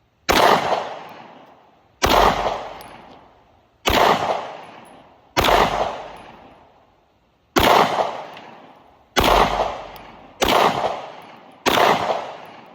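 A Canik METE MC9 pistol fires at clay targets outdoors: eight loud, sharp shots spaced irregularly about one to two seconds apart, each with a decaying echo tail.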